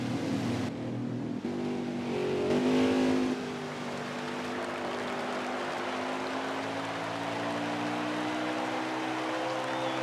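NASCAR Cup Series Chevrolet Camaro race cars circle the Richmond oval under caution, engines droning at moderate speed with a steady hum and a faint passing swell, heard from a distance with no talk.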